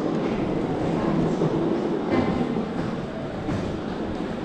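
Beijing subway train riding along, heard as a continuous loud rumble with rushing wheel and track noise throughout and no talking.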